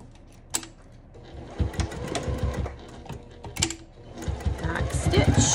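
A sewing machine stitches a zipper pouch in quick, uneven bursts of mechanical whirring and clatter, close by, with pauses and some handling noise between runs.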